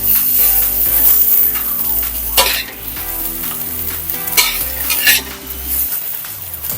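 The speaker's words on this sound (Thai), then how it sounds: "หลังจากนั้นเราจะผัดหมูสับนะคะ" Minced pork stir-frying in a hot pan: a loud continuous sizzle with repeated scrapes and clanks of a spatula against the metal, the stirring strokes coming in irregular bursts close by.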